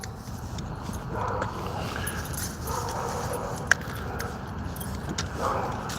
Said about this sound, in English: I bet you all these neighbors are tired of me walking the dog.